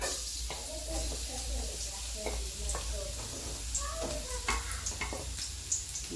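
Garlic frying in a hot pan for a tofu dish, a steady close sizzle with stirring clinks throughout, while a person talks over it.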